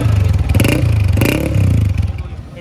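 A 2017-model motorcycle engine is running at a bike market in Karachi, giving a loud, close, rhythmic low putter with a couple of revs rising and falling before it settles back to idle.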